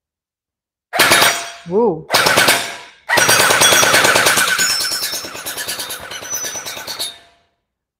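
A JM Gen8 M4 gel blaster fires close and loud: a short burst, then another, then a long sustained rapid-fire stream that trails off. A voice briefly exclaims between bursts.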